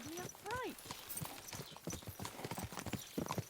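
Horse hooves clip-clop in the medieval game Kingdom Come Deliverance 2, a series of distinct footfalls from a big horse. A brief whinny sounds near the start, and someone talks over the hoofbeats throughout.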